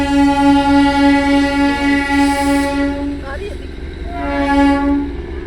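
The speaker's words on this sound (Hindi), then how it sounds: "वो रही ऊपर ट्रेन, वो रही।" A train in the hills of Darjeeling sounds a loud, steady, tonal horn that holds for about three seconds, dips, then blares again, with faint voices underneath.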